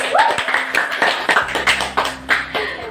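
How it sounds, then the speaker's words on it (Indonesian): A classroom group of students gives a short burst of uneven hand clapping during an Islamic religious studies lesson, with voices chattering over the claps at close range. "Beri aplaus dulu."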